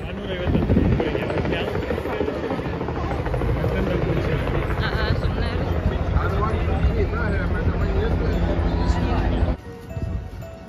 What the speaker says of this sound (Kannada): ಆಮೇಲೆ ಹೆಲಿಕಾಪ್ಟರ್ ರೈಡ್ ಕೂಡ ಇತ್ತು.